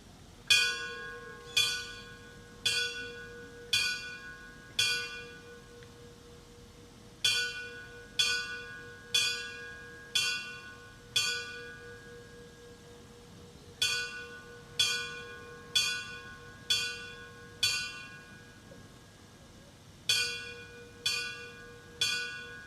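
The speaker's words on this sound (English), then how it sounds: "We'll now have the second ringing of the bells." Church bell struck repeatedly at a September 11 memorial, clear ringing strokes in irregular groups with lingering decay, heard alone over a quiet outdoor background.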